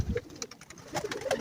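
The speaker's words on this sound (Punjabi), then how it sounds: "ਇਹ ਹੁੰਦਾ ਹੀ ਕਬੂਤਰਾਂ ਦਾ ਮਾਹੌਲ ਹੈ।" Pigeons in a rooftop loft with nesting rooms and an iron-framed roof coo softly and intermittently, several low throaty calls close by.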